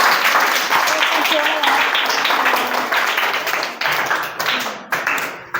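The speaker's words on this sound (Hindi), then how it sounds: "तो इस बच्चे के लिए तालियां हो जाएं" An audience claps for a child, a dense, loud wash of many hands with voices murmuring underneath, gradually thinning toward the end.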